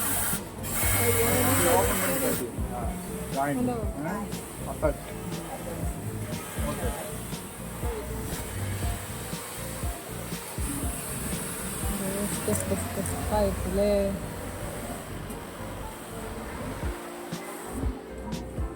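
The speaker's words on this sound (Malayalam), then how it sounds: "ഇതാണ് പ്രിൻ്റ് ചെയ്യുന്ന മെഷീനുകൾ" T-shirt printing machines run steadily on a garment factory floor, a continuous mechanical whir and clatter with rhythmic ticking throughout, while people talk over it.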